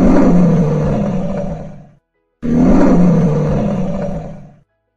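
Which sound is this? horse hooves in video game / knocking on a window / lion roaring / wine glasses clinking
lion roaring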